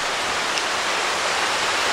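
Water gushes steadily out of a small hole at the ruins of Lake Leigh Dam in Ricketts Glen State Park, a loud, unbroken rushing hiss close by with no voices.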